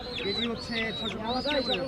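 Local deshi chickens cluck and call repeatedly at a busy village market, with rhythmic overlapping bursts close by and a faint murmur of voices underneath.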